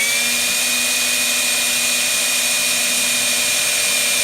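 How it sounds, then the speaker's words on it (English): Steady, loud whine of a power drill with a 1/16 bit boring a small hole in the top of a penny teacup, running continuously without pause. "now with my 1/16 drill bit, we're going to make our little hole in the cup"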